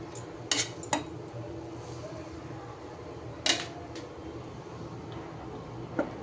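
A spatula stirs a bharta of dried fish and coriander leaves in a pan, giving a few sharp metallic clinks spread apart over a low steady background hum, close and without talk.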